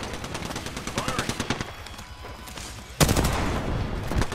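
Rapid automatic gunfire in the video game Apex Legends, dense bursts of shots in quick rhythm, then a louder heavy burst near the end, with voices talking over it.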